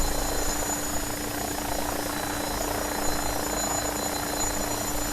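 AgustaWestland AW109SP helicopter flying an approach in a crosswind, a steady loud engine and rotor drone with a constant whine, unbroken throughout and with no talk.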